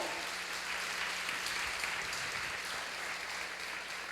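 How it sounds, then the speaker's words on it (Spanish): Church congregation applauding during a Sunday service, a steady wash of many hands clapping, fairly distant and soft with a low hum underneath. "Vamos a darle un aplauso al Señor."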